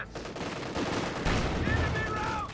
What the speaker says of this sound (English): Panzer IV missing the shots unfortunately here on the mid-center.